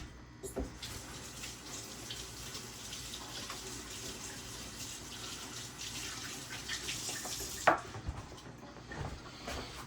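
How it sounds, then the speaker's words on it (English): Tap water runs into a sink, rinsing breaded chicken fingers, a soft continuous splashing stream at low level with a brief sharp knock near the end and no talking. "going to rinse this off because I was told to"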